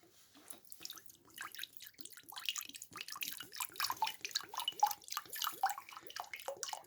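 Coconut water drips and trickles out of a coconut in a quick, irregular patter of small close drops that grows busier toward the end.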